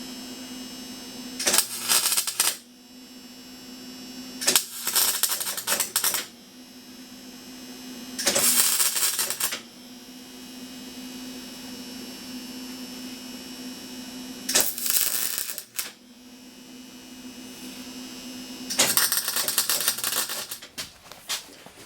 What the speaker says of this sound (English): Best I can do with that welder.